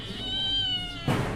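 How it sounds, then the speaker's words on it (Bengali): A cat gives a single drawn-out meow lasting about a second, close and clear, followed by a brief soft thump. "বিড়ালটা অনেক সুন্দর, কিন্তু মালিক যে কোথায় গেছে তোমার"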